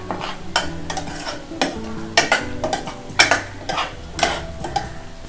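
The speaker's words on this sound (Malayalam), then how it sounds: "അപ്പം നമുക്കിത് നന്നായിട്ട് ഇളക്കി കൊടുക്കാം, ഇത് അടുക്കി പിടിക്കാൻ പാടില്ല." A mushroom roast being stirred in a pan: a run of distinct metallic scrapes and clinks of a spoon against the pan over a light sizzle, close and rhythmic, with no speech.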